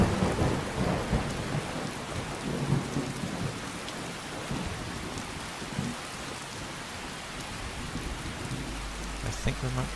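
Steady heavy rain pours through a thunderstorm in Skyrim at night, with low rumbling thunder rolling beneath it and a louder rumble near the end, continuous and fairly close.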